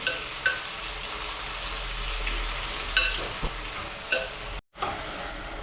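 Tomato and brinjal chutney simmering in oil in a pan, a steady close sizzle with occasional stirring scrapes, broken by a brief silent gap near the end before the frying resumes.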